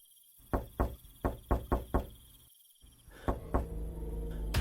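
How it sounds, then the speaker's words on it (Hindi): Knocking on a door at night, a run of six sharp raps, a short silence, then more knocks over a steady cricket-like chirping background, close and loud. "अचानक उसके दरवाजे पर दस्तक हुई।"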